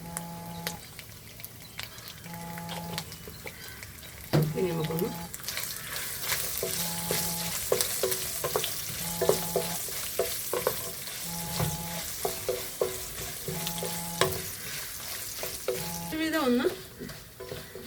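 Coconut pieces frying in a pan for chicken curry, with a steady sizzle and repeated scraping stirs close by, while electronic beeps chime in a regular pattern in the background.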